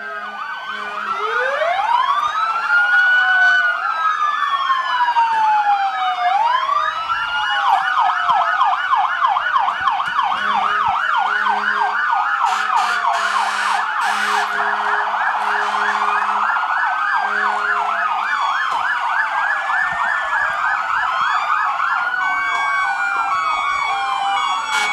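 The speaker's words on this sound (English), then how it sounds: "So here come the sirens again" Several emergency vehicle sirens wail and yelp together during a town festival parade, rising and falling in overlapping cycles, loud and close throughout with no talking.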